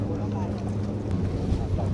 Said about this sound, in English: A historic reconstruction of a 1925 Gold Cup Racer multi-step hydroplane. Features a 600 cubic inch engine.